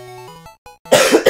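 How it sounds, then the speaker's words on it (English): A single harsh cough erupts near the microphone, loud and rough with a second jolt right after, following a stretch of chiptune game music. "I got a slight cough going."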